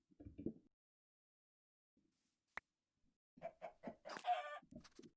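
Minecraft chickens cluck in short, quiet bursts, one at the start and a denser run near the end, separated by near silence and a single sharp click.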